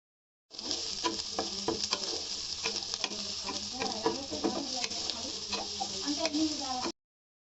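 Medium-thick sliced onions go into a pan of hot oil for a mixed vegetable curry and fry with a soft continuous sizzle, dotted with crackles and light stirring scrapes, fairly quiet and close, starting abruptly after a brief silence.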